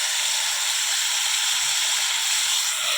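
Vegetables sautéing in a pan, a steady bright sizzling hiss that holds close and even throughout with no talk.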